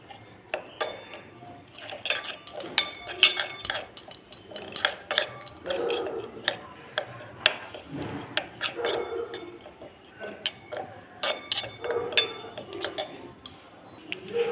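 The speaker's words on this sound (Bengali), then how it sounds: "এরপর একটু জল দিয়ে আমি পেস্টটিকে গুলে নেব।" A spoon stirs spice paste with water in a bowl, making a run of quick, close clinks and taps against the sides with short pauses between, and no voices.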